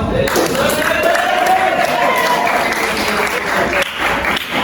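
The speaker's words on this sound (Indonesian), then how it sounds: "Tepuk tangan dong." Students in a classroom break into loud, steady applause, many hands clapping at once with some voices and cheering mixed in throughout.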